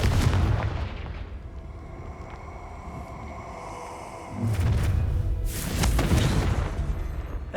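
In Hogwarts Legacy, a Confringo spell goes off as two heavy booming blasts with rumbling tails, separated by a quieter stretch, loud and close with no talking.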